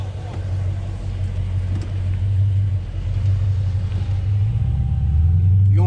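A tuned Dodge Durango RT and a tuned Charger RT during a road race, deep engine rumble that builds as they accelerate, heard from inside with people talking over it.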